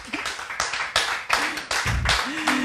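A church congregation clapping to acclaim the Lord at a French-language evangelist's service, with a string of sharp, fairly close claps in an uneven rhythm and a voice calling out over them.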